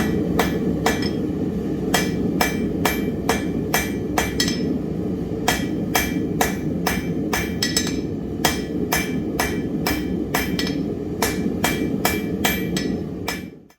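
A hand-forged wrought iron hammer from a small bar smithy strikes metal again and again in a steady, fairly even rhythm, each blow a sharp ringing clang over a low background hum, with no voices.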